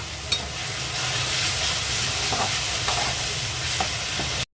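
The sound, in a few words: chopped onion frying in oil until reddish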